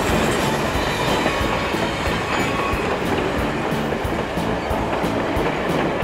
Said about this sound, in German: Ja, auch mit 6 Loks schafft es Thomas.